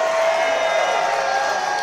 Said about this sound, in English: The crowd showing their appreciation.